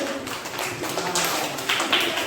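Students in a classroom clap their hands in a brief, dense burst of close, overlapping claps, with some voices mixed in.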